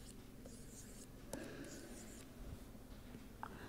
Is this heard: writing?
yes